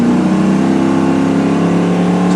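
A car engine revving through a newly fitted muffler exhaust, a loud, sustained, steady drone with a strong low hum, heard close up and without talk.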